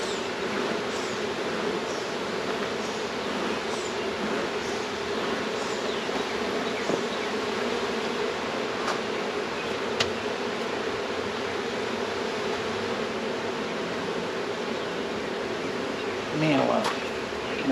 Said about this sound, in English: There's a gajillion bees out here.